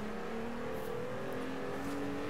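A steady, droning car engine held at high revs in the racing game Forza Horizon 4, on a budget winter car, with a sustained tone and no speech.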